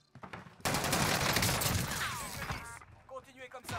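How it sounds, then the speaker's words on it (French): Gunfire fills a first-person shooter match in Resurgence mode. Heavy bursts of automatic fire and shots crackle loudly after a short pause, then fade into scattered noise. "J'essuie des tirs."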